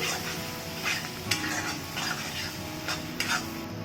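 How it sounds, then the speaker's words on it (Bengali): Spice masala stir-fried in oil for Katla fish kalia: a steady, close sizzle with repeated scraping strokes of a spatula against the pan and a few sharp metallic clicks, no voices. "এই সব মশলা আবারও তিন মিনিট মতন কষিয়ে নেবো"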